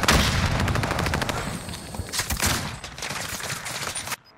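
Rapid automatic gunfire in Call of Duty Warzone, a loud, dense stream of bursts that runs nearly continuously, eases briefly, then surges again before stopping abruptly into quiet.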